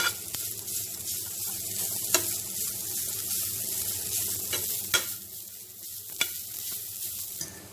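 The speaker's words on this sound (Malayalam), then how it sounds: "നന്നായി ഇളക്കിയെടുക്കുക." Unnakkaya mixture is stirred in a frying pan, with a soft continuous sizzle and scraping, broken by several sharp spoon knocks against the pan.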